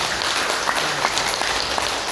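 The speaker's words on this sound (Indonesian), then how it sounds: "Berikan tepuk tangan untuk Betani Bapak Ibu" Audience applause at a presentation launching Betani organic fertilizer, a dense, steady patter of many hands clapping at once, fairly loud and continuous throughout with no talk over it.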